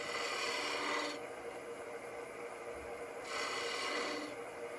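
A skew chisel cuts a V into wood spinning on a lathe, giving a continuous hissing, rasping shave that swells louder in two stretches, close up, with no talking.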